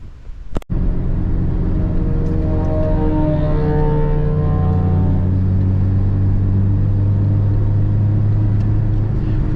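A Honda-engined car running on nitrous drives with a loud, steady engine drone and rumble that climbs slowly in pitch. A sharp click comes near the start.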